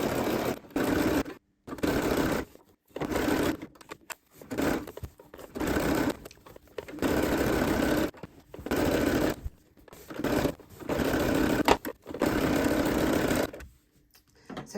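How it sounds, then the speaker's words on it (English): A sewing machine runs French seams down the side, along the bottom and up the other side of a fabric drawstring sack, whirring loudly and steadily in repeated bursts of a second or two, with short pauses between runs. "We'll stitch all the way down the bag, along the bottom and up the other side."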